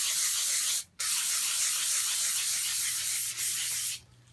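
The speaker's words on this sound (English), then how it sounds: "So we're going to sand it with the 240 grit" Soapstone being sanded by hand with 240 grit silicon carbide sandpaper, a steady close hissing rasp of repeated strokes broken by two brief pauses, with no talking.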